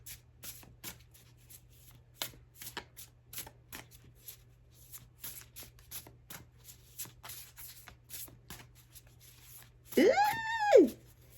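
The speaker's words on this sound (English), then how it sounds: "So let's pull some cards." Oracle cards being shuffled by hand, a series of soft riffling flutters and slaps at an uneven rhythm, close and quiet, ending in a brief louder burst of card handling.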